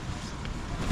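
Strong force 9 wind buffets the microphone near Alataw Pass in Xinjiang, a loud continuous roar with low rumbling gusts and no voices.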